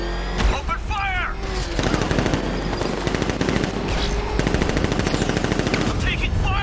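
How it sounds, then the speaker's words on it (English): Sustained automatic gunfire rattles in the Batman Arkham Knight video game during a vehicle chase, dense rapid bursts close and loud, mixed with engine roar and shouted voices. "Open fire!"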